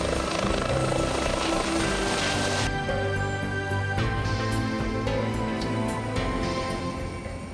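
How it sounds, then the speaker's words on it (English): A helicopter flying to an offshore wind farm drones steadily with a rapid rhythmic rotor chop, loud and fairly close, holding through the whole stretch. "transport to the wind farm is by helicopter."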